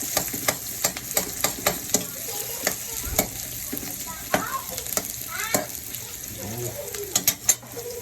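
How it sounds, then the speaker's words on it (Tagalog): Chopped chili peppers fry and sizzle steadily in a pan, with a run of sharp clicks and stirring scrapes throughout, close and fairly loud. "medyo lulutuin natin ang sili"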